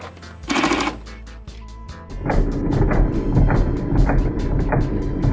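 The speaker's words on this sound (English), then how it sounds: "I put the slip clutch of the screwdrivers at almost maximum, blocked the drive wheel and gave it a go." A cordless screwdriver's slip clutch, set near maximum, slips against the blocked drive wheel of a 1/6 scale M/39 tank's belt drive, giving loud, rapid rattling clicks that start in short bursts and then turn into a continuous chatter.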